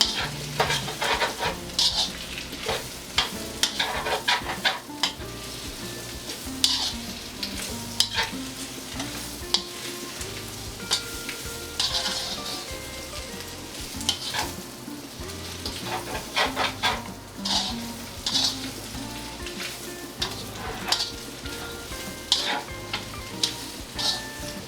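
Peppers and onions frying for pepper steak, stirred continuously in a pan: a loud, close sizzle with frequent rhythmic spatula scrapes and knocks running the whole time.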